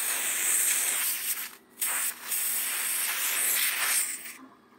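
Air hissing steadily as it is sucked into an expansion tank valve, a loud sustained rush broken by a few short gaps before fading out.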